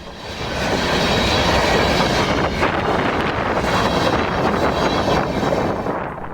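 A Genesee and Wyoming freight train rolls past near Mount Morris, New York, with loud rumbling and rhythmic wheel clatter on the rails, heavy wind noise on the microphone, swelling in and fading at the end.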